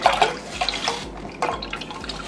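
Plant milk poured into a cooking pot for sweet potato mash, a short soft liquid splash and trickle with faint drips, close by and quiet, no talk.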